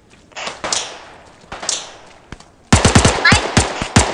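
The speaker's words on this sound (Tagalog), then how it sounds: "Shots fired?" Sharp gunshots ring out in the video game ARMA 3, first a few spaced shots with echoing tails, then a rapid burst of closely spaced fire.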